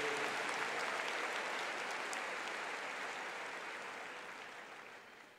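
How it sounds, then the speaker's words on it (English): An audience claps steadily at a university welcome day, a broad, even wash of applause that slowly fades toward the end. "Give them another round of applause, please."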